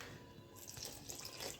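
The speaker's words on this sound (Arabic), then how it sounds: "نضيف الميه بالتدريج." Water runs in a short trickle into a bowl of flour for simple pastry dough, a faint splashing pour that starts partway through the moment and continues quietly.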